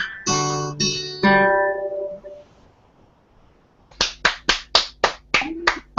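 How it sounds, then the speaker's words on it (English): A run of sharp, evenly spaced hand claps, about eight in a steady rhythm, follows a few ringing musical notes that fade out into a quiet gap. "stop clapping"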